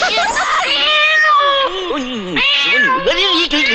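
A cat meows repeatedly in long, wavering, close-up cries, almost continuous across the stretch, loud and clear with no talking over it.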